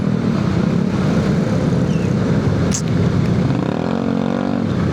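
Steady road traffic during heavy monsoon rain, with cars and motorcycles rumbling continuously and loudly up close and no talking.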